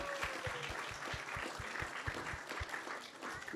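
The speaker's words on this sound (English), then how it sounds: "So let's give a big round of applause to everyone who has joined us here tonight." An audience claps together at an ISKCON Silicon Valley evening gathering, with dense, steady applause that stays loud and even from start to finish and no voices over it.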